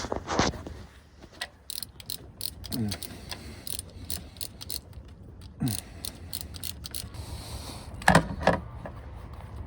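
Ratchet turning a reverse light switch on a 2005 Ford Transit, a series of sharp clicking bursts in uneven clusters, close and moderately quiet over a low background hum.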